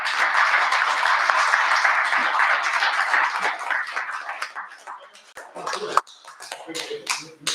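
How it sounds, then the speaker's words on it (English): Audience applause for author Bernie Siler at a Civil War Round Table meeting, a dense spell of clapping that thins into scattered individual claps before fading. "let's give Bernie a big round of applause"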